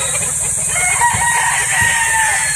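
A rooster crows in a long, drawn-out call over steady background noise, with a few faint clucks mixed in.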